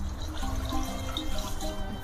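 Water pours steadily into a clay pot of dalma holding carrot, potato and eggplant, a continuous close-up running and splashing sound for about two seconds with no talking.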